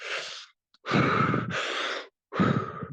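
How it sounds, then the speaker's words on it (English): Heavy, forceful breaths close to the mic: a long exhale, then a deep inhale and exhale, then another rush of breath after a short pause. "I'm doing 30 heavy breaths"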